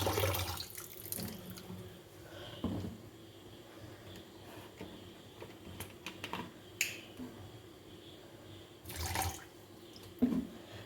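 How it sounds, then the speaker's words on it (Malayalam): Water is poured over cleaned sardines sitting in salt and vinegar, giving intermittent splashes and small knocks at moderate volume with no talking. "ഇനി അതിനകത്തോട്ട് കുറച്ച് ഉപ്പിട്ടു ഇനി അല്പം വെള്ളവും ഒഴിച്ച് വിനാഗിരിയും ഒഴിച്ച് ഒരു അരമണിക്കൂർ വെക്കാം"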